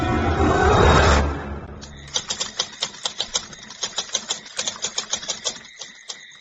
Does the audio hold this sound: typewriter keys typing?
yes